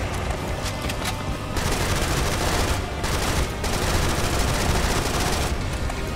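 An AK rifle fires in the shooter Serious Sam: Siberian Mayhem, a loud, nearly continuous automatic stream of shots with only brief pauses, heavy and close throughout.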